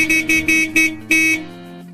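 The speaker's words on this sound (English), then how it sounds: "Use your horn when closing in on corners, entrances, and pedestrians." An industrial truck horn sounds in five loud, evenly spaced toots, the last held a little longer, then cuts off to a quiet hum.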